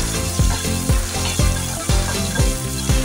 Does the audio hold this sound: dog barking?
no